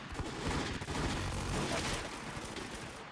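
Rapid gunfire in a shooter video game, dense volleys of shots blending into a continuous burst, fairly faint, with little talk.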